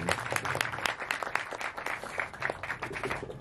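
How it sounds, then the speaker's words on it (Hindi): A crowd at a song launch event claps in a dense, steady burst of applause, many hands together for a few seconds. "तो जोरदार तालियां पहले तो"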